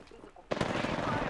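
Automatic weapon fire in the battle royale game Apex Legends bursts in loud and sustained after a quiet half-second opening, a dense rapid volley dominating the mix.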